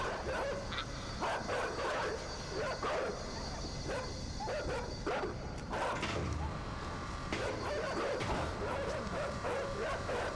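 Dogs bark and yip repeatedly in the side-scrolling game Inside, sharp overlapping barks over a dense, steady mechanical rumble that runs throughout.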